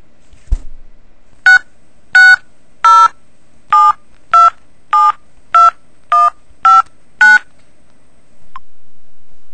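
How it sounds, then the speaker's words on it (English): A telephone number is punched in as ten crisp touch-tone beeps in a steady, evenly spaced rhythm, loud and close, followed by a low hum of the line. "Just dial it, Peck."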